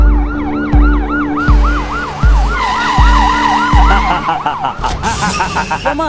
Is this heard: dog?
no